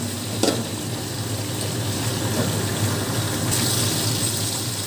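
Green peas, whole green chilies and tomatoes stirred in hot oil in a pan: a steady, dense sizzle with a scraping clink from the spoon near the start, continuous and close with no voices.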